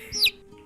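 A voice imitating a chicken, giving one short high squawking cluck that rises and falls, brief and close.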